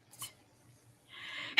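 A person sneezes once, a short, sharp, close burst after a quick inhale, with a faint sound just before it.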